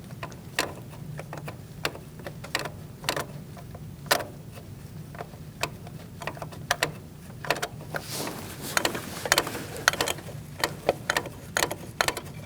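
Thermostat housing bolts are started and tightened by hand on a 2016-2019 Chevrolet Cruze 1.4L, producing sharp, irregular metallic clicks and ratchet ticks, close and fairly quiet, with short bursts of rapid clicking and no voices.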